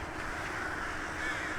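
A large winter flock of rooks perched on power lines in Ulsan caws continuously, their overlapping calls forming a dense, steady chorus outdoors.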